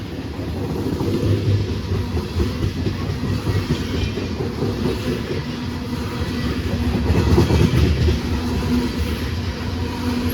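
A Conrail locomotive leads a freight train of hopper cars rumbling past close by, with a continuous loud roar and rhythmic clickety-clack of wheels on rail joints, swelling slightly toward the end.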